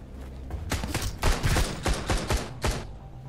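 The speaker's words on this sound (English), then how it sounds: "Okay, they have a machine gun." Rapid bursts of machine gun fire in the Sunkenland video game during a battle at a bandit outpost, several loud, sharp volleys of shots coming in quick rhythmic clusters, close and dominant with no talk over them.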